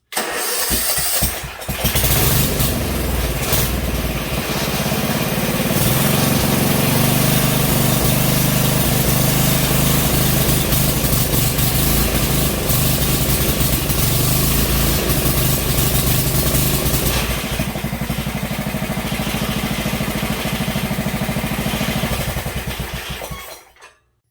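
A Sears Custom 10XL lawn tractor's 10-horsepower gasoline engine sputters to life and then runs loud and steady for over twenty seconds before cutting off abruptly.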